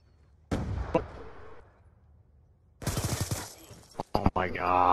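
Gunfire from Call of Duty: Black Ops 2 comes in two bursts, a short volley of loud shots followed after a pause by a denser rattle of rapid fire with sharp close cracks, mixed with game sounds.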